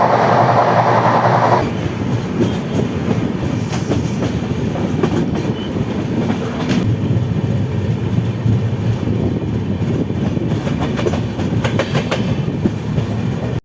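The Saraighat Express train, Howrah to Guwahati, rumbles along steadily with rhythmic clatter of wheels on rails, loud and close, with brief squeals and clanks throughout.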